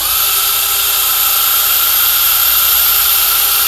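Steady, loud motor whine of a cordless drill-driver set to speed 2 with a polishing pad buffing a surface with polishing compound, running continuously and evenly with no pauses.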